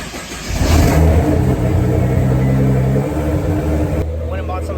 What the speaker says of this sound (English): I'm gonna go ahead and start the car up, let it warm up